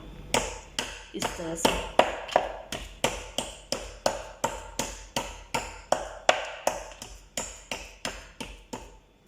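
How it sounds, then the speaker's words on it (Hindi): Mutton is pounded to break its fibres in an Old Delhi mutton kitchen, giving a steady run of about two dozen sharp, evenly spaced thwacks over several seconds, close and clear. "इस तरह से करके पीट लेंगे ताकि इसका जो रेशा है वो टूट जाए"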